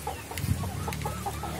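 Laying hens in a litter-floored coop give soft, scattered clucks, a few short calls over a low steady background, fairly faint.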